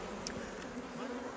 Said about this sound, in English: You can tell we've got a lot of young nurse bees there